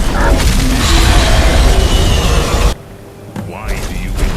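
A dragon's booming Thu'um shout from Skyrim roars out loud and sustained for a few seconds, then cuts off abruptly into quieter ambience as a deep voice begins speaking.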